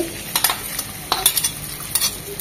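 Chopped onions, about a cup, hit hot oil already fragrant with whole spices for a beef curry, giving a steady close sizzle broken by several bursts of stirring and scraping in the pan.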